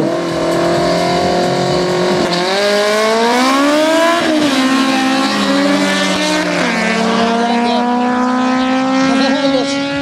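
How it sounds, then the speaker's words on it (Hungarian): A Honda Civic drag car, third generation with a 1.5 turbo, screams through rising and falling engine revs as it accelerates hard down a quarter-mile strip, loud and continuous with no voices. "Hangos Honda, nagyon kemény."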